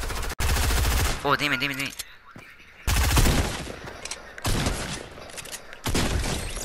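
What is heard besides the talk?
gunfire in a video game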